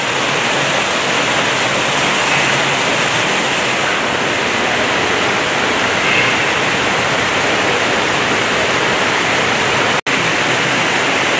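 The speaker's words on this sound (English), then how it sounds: "we got some definitely fast moving stream" Fast-moving stream water rushing through a river exhibit tank at the Audubon Aquarium in New Orleans, a constant loud broadband wash like a waterfall, with a brief dropout near the end.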